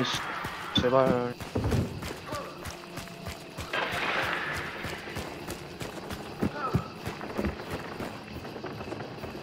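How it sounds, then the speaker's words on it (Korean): Footsteps in Hunt: Showdown, quick rhythmic thudding steps running across the ground, fairly close and steady, mixed with other game noises and bursts. "발소리, 발소리."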